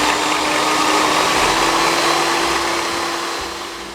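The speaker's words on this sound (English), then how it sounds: "And now I can start beating my egg whites." Electric hand mixer beating egg whites for a pavlova, a loud steady high-pitched motor whine running continuously and close by, easing off slightly at the end, with no talk.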